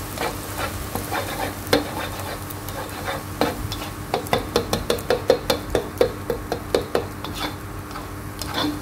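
Scrambled egg is stir-fried in plenty of oil, a continuous sizzling hiss under a rhythmic run of sharp spatula-on-pan knocks that grow quicker and more regular toward the end, close and moderately loud.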